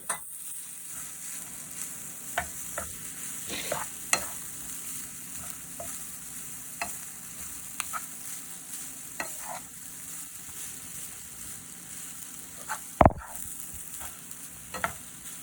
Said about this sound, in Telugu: చివరిలో కొత్తిమీర వేసుకొని కలుపుకోవాలి